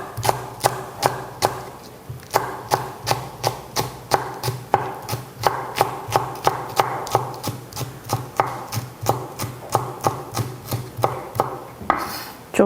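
Knife chopping three green chili peppers on a cutting board, a steady run of crisp, close taps at a brisk even rhythm with brief pauses, no talking.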